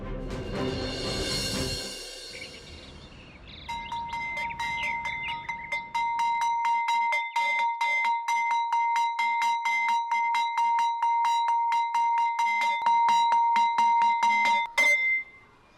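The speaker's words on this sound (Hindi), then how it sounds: "घंटी बजाकर स्कूल की छुट्टी कर देता है और बच्चे खुश।" A school bell is struck over and over in a steady, fast rhythm for about eleven seconds, ringing loud and close with a bright metallic tone, after a burst of loud noise at the start.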